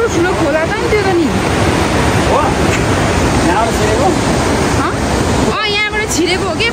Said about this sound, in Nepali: कत्रो ठुलो खोला छ नि त्यो त नि